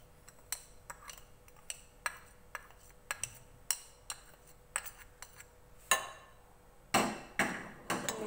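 Metal utensil tapping and clinking against a dish while spices are mixed into fries, a steady series of sharp knocks, some louder scrapes near the end, with no talk.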